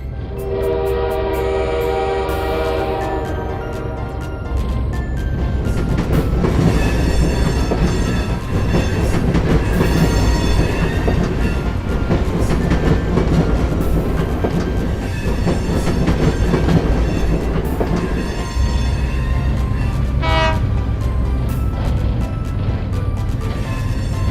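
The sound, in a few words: trains running and horn at train factory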